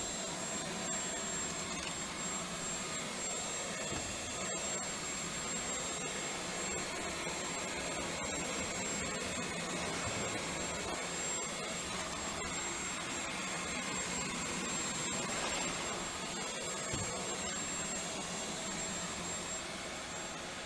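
A Dyson V12 cordless vacuum sweeps dust and debris across a hard floor, its motor giving a steady, close, high-pitched whine with slight shifts in tone as it moves. No one speaks.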